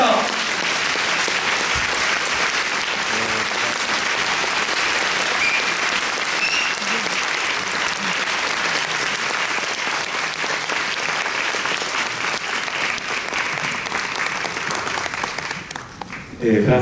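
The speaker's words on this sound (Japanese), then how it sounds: "大きな拍手でお迎えください" A theatre audience at a French film festival Q&A gives sustained, loud applause to welcome director Jean-Paul Salomé, a dense, steady clapping that carries on without a break and fades near the end.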